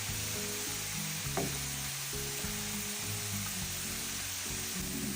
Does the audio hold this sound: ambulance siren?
no